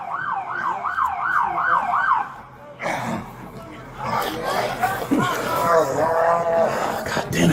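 A wailing police siren cycles rapidly up and down, then cuts out; voices and commotion follow with another siren wail under the chatter, at a shooting scene in Baltimore.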